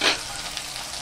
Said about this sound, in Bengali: আলুগুলো 5 মিনিট ভেজে নেব।